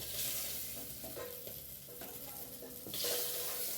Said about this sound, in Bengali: একটু লাল লাল করে মাছটা ভাজতে হবে।